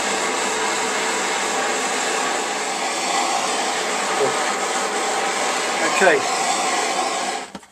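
A heat gun blows with a steady, loud, close airy roar, warming the alloy around a bolt on a Suzuki Bandit motorcycle, with a brief spoken word and a faint scrape partway through.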